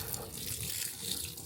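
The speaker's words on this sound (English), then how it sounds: "we're going to go ahead and fill this up with water" Water from a faucet pours into the tub of a washing machine, a steady, soft rushing fill with no voices.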